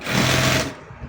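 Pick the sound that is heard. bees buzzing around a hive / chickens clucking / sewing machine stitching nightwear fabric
sewing machine stitching nightwear fabric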